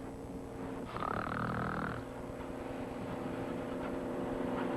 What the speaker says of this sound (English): Right now, the snoring is about 80 decibels.